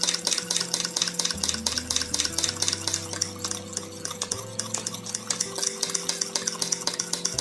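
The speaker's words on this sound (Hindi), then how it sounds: "ऐसे इसको कांटे चम्मच से अच्छा से हिला लेना है," A fork beats batter into a smooth cream in a bowl, making fast, even clicking and scraping strokes against the sides, with a faint tonal hum in the background.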